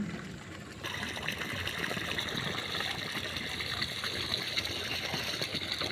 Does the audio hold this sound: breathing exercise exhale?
no